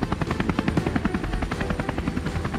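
A helicopter sound effect with rapid, loud rotor chopping thumps close by, pulsing evenly throughout.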